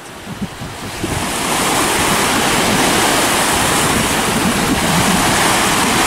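Water splashes and churns continuously as someone swims in the Gulf of Finland, starting with a few separate splashes and then building into a steady, loud rush with wind noise.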